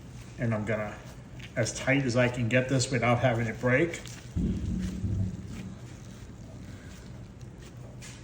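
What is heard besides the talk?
thunder during a thunderstorm in Florida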